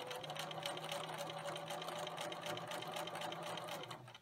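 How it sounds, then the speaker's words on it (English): A sewing machine stitches along the folded edge of a fabric candy corn banner, a steady fast whirring hum that runs unbroken for several seconds and cuts off at the end. "I'm going to go to the sewing machine and sew it"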